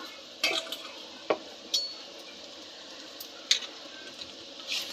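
A spoon scrapes and clinks against a pan while lady finger (okra) fry is stirred with chili powder and salt, giving a handful of sharp metallic taps spaced irregularly over a quiet kitchen background.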